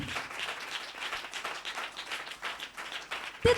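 A church congregation at a Friday meeting sermon claps in a soft, uneven patter for a few seconds, moderately distant, with no voices over it.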